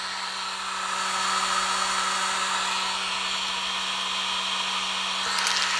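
Heat gun blowing steadily over painted fishing jig heads, a constant close whirring hiss with a faint mechanical hum, nobody talking.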